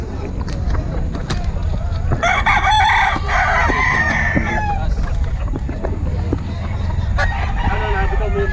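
A rooster crows loudly nearby, one long call, amid other clucking fowl and a busy outdoor background with faint voices at a market in Bocaue.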